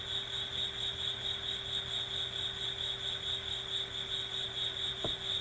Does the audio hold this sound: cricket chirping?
yes